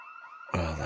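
Loud video game alarm blaring in sustained wailing tones, cutting in abruptly halfway through after a quieter steady hum, then holding at full volume.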